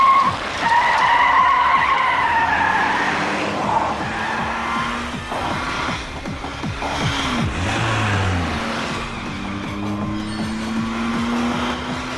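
Car tearing away from a standoff in a Tamil action film, a loud continuous tire skid over revving engine and scrambling noise, with a rising engine drone carrying through to the end.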